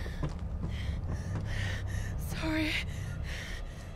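Heavy, panicked breathing from a character in the Tomb Raider video game, repeated gasping breaths in a steady rhythm against a low ambient rumble, with a brief spoken word in the middle.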